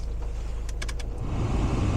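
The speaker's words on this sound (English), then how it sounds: "So the blown motors, if you can hear that through the mic, are working" Car heater blower motors whir steadily inside a customer's car that nearly caught fire, a broad low hum that swells slightly toward the end, with a few faint clicks on top.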